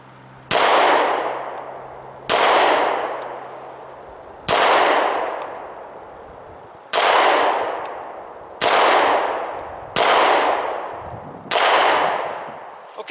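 Seven single shots from a Smith & Wesson M&P 9 Shield pistol crack loudly at irregular intervals of one to two seconds, each sharp report trailing off in a ringing decay before the next.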